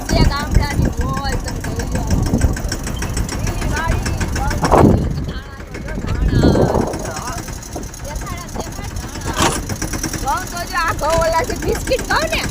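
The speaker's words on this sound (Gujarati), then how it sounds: "ટ્રેક્ટરમાં બેસી જાય છે" A tractor engine runs at a low steady idle in a village, its rumble sitting beneath people talking close by throughout.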